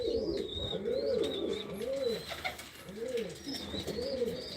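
Pigeons coo in soft, repeated rolling phrases on a rooftop, close and fairly quiet, with faint higher chirps in the background.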